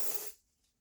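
A single short spritz of L'Oreal Elvive Dream Lengths hair spray hisses close by, then cuts off into near silence.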